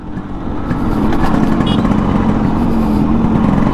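A Yamaha RX100 motorcycle engine runs steadily and loudly up close, a continuous low throbbing drone that swells in the first half second, then holds even with no talk over it.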